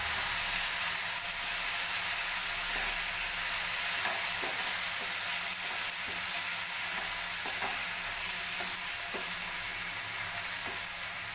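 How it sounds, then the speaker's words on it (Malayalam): A spoon stirs chicken curry in a pan on low heat, with a steady sizzle and periodic soft scrapes and taps against the pan, close and continuous with no talking. "അടപ്പ് തുറന്ന് ഇളക്കി കൊടുക്കാം."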